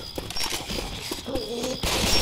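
Rapid gunfire bursts from a Left 4 Dead 2 carnival-highway fight crackle in quick uneven volleys, with scattered shots over faint background ambience.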